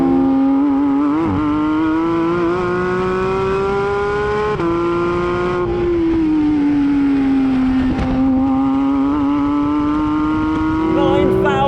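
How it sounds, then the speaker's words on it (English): A naturally aspirated 2021 Porsche 911 GT3 (992) engine revs loudly and steadily, pitch rising and falling through the range with a sharp, high-revving wail, close and continuous. "This is still a naturally aspirated engine, and it's still phenomenal."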